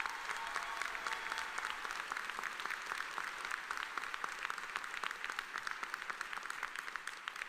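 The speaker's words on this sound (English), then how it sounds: "Please give her a round of applause." Crowd at a Seton Hall law school commencement ceremony clapping for a retiring dean, sustained applause from many people at an even level, fairly distant and soft, continuing for the whole stretch.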